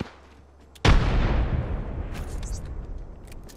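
A frag grenade explodes in the video game Apex Legends with one sudden loud boom, followed by a long rumbling decay and scattered crackles and debris.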